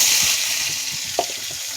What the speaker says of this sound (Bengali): কড়াই তেলটা গরম হয়ে গেছে,